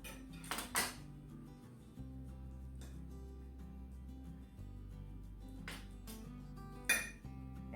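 Pressure-cooked brisket is pulled apart with metal utensils, giving a few sharp clinks and scrapes against the pot between quiet stretches, over a low steady hum.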